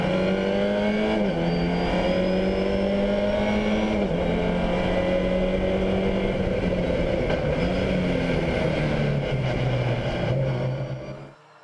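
Volkswagen Fun Cup race cars racing at the Mettet circuit, a loud continuous engine drone whose pitch rises and drops through gear changes, fading out at the end.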